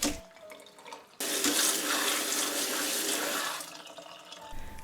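Water from a kitchen tap pours into a sink as boiled bamboo shoots are drained, a steady rushing splash of about three seconds that starts abruptly and tapers off, close and alone.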